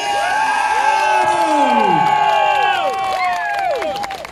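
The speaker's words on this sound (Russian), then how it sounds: "громкие аплодисменты!" A loud crowd cheers and whoops, with excited high-pitched shouts and some clapping filling the whole stretch.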